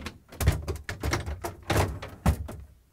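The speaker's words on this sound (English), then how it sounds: "we can slide in the lower drawer and then both upper drawers." Refrigerator drawers on an LG/Kenmore fridge slide into place, a lower drawer then two upper ones, giving a series of close, hollow plastic thunks and knocks with brief sliding scrapes between them.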